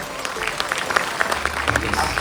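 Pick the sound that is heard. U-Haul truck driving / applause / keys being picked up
applause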